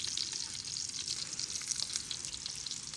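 Shrimp frying in hot oil outdoors in a Vietnamese countryside garden, a steady close sizzle with crackling pops running throughout, no voices.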